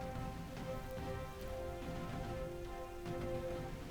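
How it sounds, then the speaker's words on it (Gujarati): Unseasonal rain falls at night in Modasa town, Aravalli district, a faint, steady patter of drops with a low continuous hiss and no voices. "કમોસમી વરસાદ વરસી રહ્યો છે"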